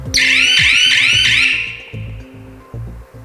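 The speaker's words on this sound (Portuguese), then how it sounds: "Voltando à sirene, onde eu posso ligar e desligar a sirene." A smart home security alarm siren sounds loudly during a residential IoT gateway demonstration, a rapid warbling electronic wail repeating in quick sweeps for about a second and a half, then fading as low room noise and handling sounds continue.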